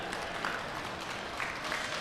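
Scattered audience clapping carries faintly at a longsword tournament pool match, a steady patter under a noisy hall background.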